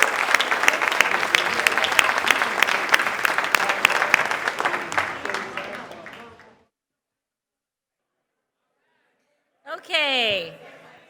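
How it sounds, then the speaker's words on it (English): A reception audience gives a sustained round of applause for a 1990 track and field team, dense clapping for about six seconds that fades out, then silence before a brief spoken voice. "how about another round of applause for the 1990 track and field team?"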